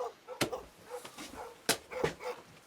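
Shepherds' dogs barking fiercely while driving a bear away from its prey: two or three sharp, loud barks spaced about a second apart, with fainter yelps and rustling between them.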